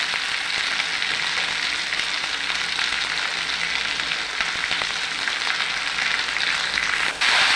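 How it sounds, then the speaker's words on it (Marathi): Green chillies frying in oil for a dill-leaf (shepu) bhaji, a loud continuous sizzle that holds evenly throughout, close and unbroken, with no talking. "तेलामध्ये मिरची व्यवस्थित भाजून घ्यायची"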